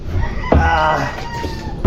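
A chicken that had roosted on a roof clucks and crows in short bursts close by, with a farmyard background and a low thump at the start and end.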